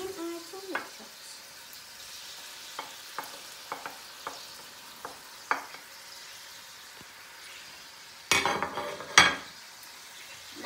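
Tomatoes are stirred in a frying pan with a gentle sizzle underneath and scattered clinks of a utensil against the pan, ending in a couple of louder scraping clatters; no one speaks.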